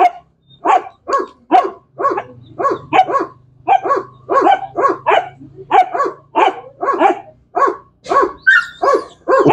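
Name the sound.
dog Max barking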